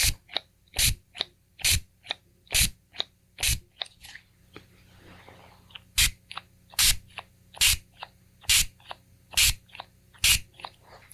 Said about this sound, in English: I'm gonna clean my hands with a little alcohol spray here.